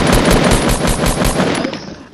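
Automatic gunfire in the video game Fortnite, a rapid, loud burst of about a dozen evenly spaced close shots that tails off and fades near the end, with no voices over it.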